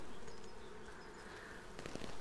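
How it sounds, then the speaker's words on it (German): Honey bees buzz thickly on the comb during a spring inspection of a Bienenkiste hive, a close, continuous drone with a few brief taps and rustles near the end. "weil die Bienen im Prinzip die ganze Wabengasse besetzen"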